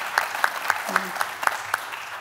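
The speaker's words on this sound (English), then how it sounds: "I think that deserves a round of applause" Audience at a panel discussion on Europe's competitiveness clapping briefly, a short burst of separate claps over a couple of seconds with a voice speaking at the same time.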